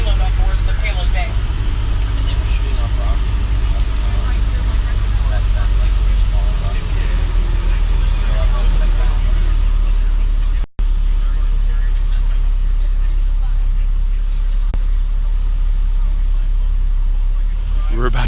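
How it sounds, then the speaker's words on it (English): A tour bus at Kennedy Space Center rumbles steadily close by with a deep engine drone and road noise, driving and then easing off the road onto grass, with people talking throughout. "We're about to just park this bus on the side of the road"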